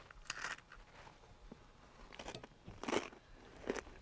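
Several crisp, crunchy bites into a cookie and ice cream mix come close to the mic in separate bursts with short quiet gaps between them.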